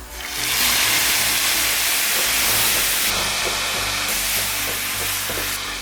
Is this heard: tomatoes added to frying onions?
yes